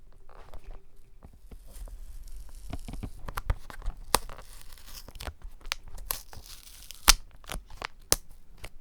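Packaging for a Microsoft Surface Go 2 Type Cover keyboard with Alcantara fabric being torn open and handled, with close, crisp ripping and crinkling bursts and scattered sharp snaps, no talking.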